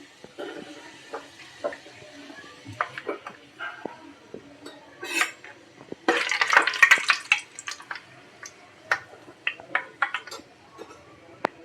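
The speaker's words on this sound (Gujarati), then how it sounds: "થોડી સૂકેલી મેથી નાખશું." Dried fenugreek leaves sizzle in hot oil for a Gujarati tempering while making muthiya dhokla, a soft crackle with scattered clicks and pan taps that swells into a denser burst midway, then settles back to sporadic pops.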